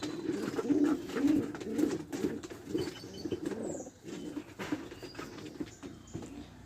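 A pair of white homer pigeons coo close by in a steady series of soft, low, throaty calls, fairly quiet against faint background noise.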